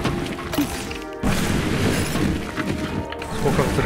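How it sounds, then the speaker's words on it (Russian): Explosions in the video game SteamWorld Dig, a dense run of crashing, shattering bursts that keep going loud and continuous for several seconds, with no pauses between them. "Сколько взрывов, сколько взрывов."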